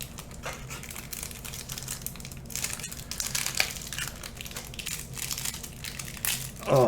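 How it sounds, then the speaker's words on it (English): Crinkling and crushing of a cellophane wrapper being torn open on a trading card pack, a close, continuous crackle with sharper bursts midway and a louder rustle at the end, no talking. "Cellophane has been opened."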